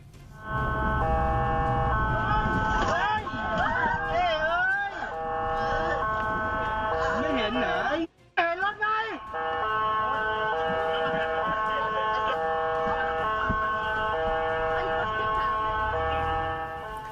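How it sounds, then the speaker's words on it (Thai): A loud emergency siren wails continuously, its pitch sweeping up and down, with a brief cut-out midway before the steady tone resumes. "เสียงไซเรนมันดังไปหูเป็นกิโลอ่ะคุณครับ"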